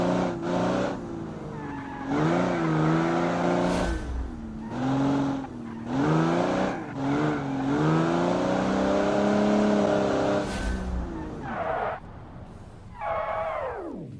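A 1972 off-road car with a 4.7 liter inline-six in the Automation game revs and roars close up, its engine pitch climbing and dropping through repeated throttle bursts, with brief skid-like noise between surges.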